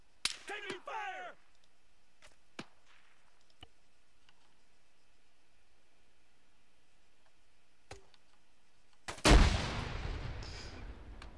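Incoming gunfire in a PC military game during a 7Cav event on Malden: a few sharp, whip-like single cracks spaced apart in near silence, then a loud, close burst of impacts near the end.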